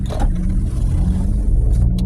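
A manual-transmission car pulls away after a shift into first gear, its low engine rumble steady and close throughout, with a brief scrape near the end.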